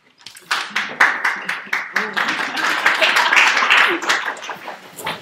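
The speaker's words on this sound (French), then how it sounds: "On commence par les applaudissements." An audience at a health-system talk claps for a speaker being introduced, first as rhythmic, evenly spaced claps and then as a fuller, denser burst of applause that fades away at the end.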